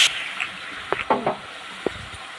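Chopped tomatoes dropped into a hot pan of oil while making sago khichuri, bringing a brief loud initial sizzle, then a few stirring clatters over a faint, steady frying hiss.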